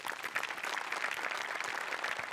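Studio audience applauding for Sachin Goswami on a Marathi comedy show, dense steady clapping from many hands filling the whole moment, loud and continuous without voices.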